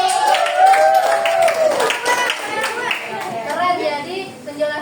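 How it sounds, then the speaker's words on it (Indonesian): A classroom of children claps hands under a lively mix of voices and chatter, with the clapping loudest early on before it thins out. "tepuk tangan"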